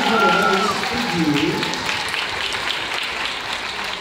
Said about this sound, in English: Let's give a round of applause to you.